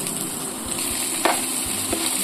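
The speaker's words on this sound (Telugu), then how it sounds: "తాలింపు ఇలా ఫ్రై అయ్యాక సన్నగా తరుముకున్న ఆనియన్స్" Thinly sliced onions frying in oil with tempering spices, a continuous close sizzle with occasional soft stirring clinks, no talking.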